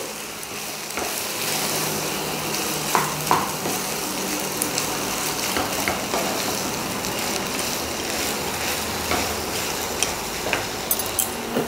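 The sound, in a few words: potatoes fried with onion and garlic in a pan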